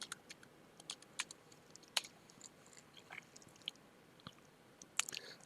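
Typing a command on a computer keyboard, faint scattered key clicks in irregular bursts, quiet and close, with no speech.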